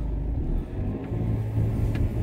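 Car engine rumbling steadily from inside the cabin while driving to a petrol station in Germany with a punctured tyre, a low continuous drone with faint wind noise and no talk.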